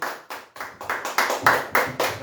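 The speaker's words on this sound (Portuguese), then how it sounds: "A salva de palmas para o Senhor." A church congregation claps in praise with steady, rhythmic beats about three per second, each clap sharp and close, building slightly louder as it goes on, with no speech over it.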